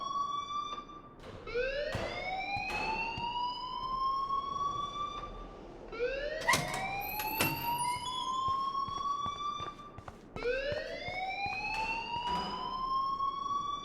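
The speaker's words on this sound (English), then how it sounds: "please turn off that alarm since that's your job" A rising, wailing alarm siren in the video game Life is Strange, sweeping upward in three long repeated cycles, loud and steady with faint background noise.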